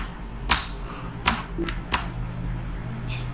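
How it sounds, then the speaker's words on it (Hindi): Enter key on a computer keyboard pressed repeatedly, four sharp, loud clicks at uneven intervals, heard up close over a quiet room hum. "enter enter enter enter enter enter"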